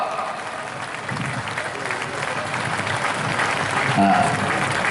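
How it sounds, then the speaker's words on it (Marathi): Crowd at a political rally clapping steadily, a dense continuous applause filling the scene at moderate loudness, swelling slightly near the end. "आपल्या सर्वांना विनंती करतो जोरदार टाळ्या वाजवा"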